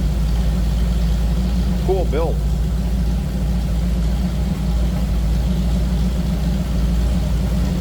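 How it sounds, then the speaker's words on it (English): 1930 Ford Model A Roadster with dual exhaust idling in a steady, deep low rumble, close and constant, while someone speaks briefly over it. "nothing crazy for exhaust over the top. Anything like that. Just nice sounding rumble."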